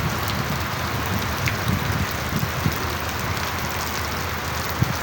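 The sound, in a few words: rain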